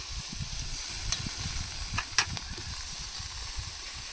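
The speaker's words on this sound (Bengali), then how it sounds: "কষিয়ে নিচ্ছি আদা রসুন বাটা দিয়ে দেবো এবার দিয়ে দেবো জিরা বাটা" Ginger-garlic paste and cumin paste sauté in hot oil for doi katla, giving a soft, close sizzle with light stirring scrapes and a couple of brief clinks.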